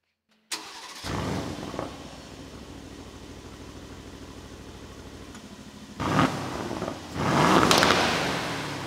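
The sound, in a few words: Aston Martin Vantage F1 Edition V8 engine revving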